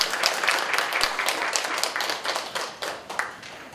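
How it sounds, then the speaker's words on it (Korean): Audience applause welcoming a speaker at a municipal development-cooperation forum in Suwon, a moderate crowd clapping steadily with a few sharper individual claps standing out, fairly close and fading slightly toward the end. "큰 박수로 맞이해 주시기 바랍니다."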